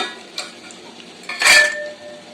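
Raisins and cashews dropped into a thick-bottomed pan for vermicelli payasa, a soft clatter followed by a brief metallic scrape of stirring, close and clear in an otherwise quiet kitchen.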